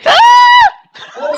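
A person lets out a long, high-pitched shriek imitating a little girl, loud and close, held for about half a second before breaking off, followed by a brief rough vocal sound.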